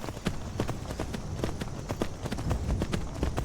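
A horse gallops along in the video game Skyrim, steady hoof clip-clops beating in a quick rolling rhythm over a low ambient bed, close and fairly loud with no talk.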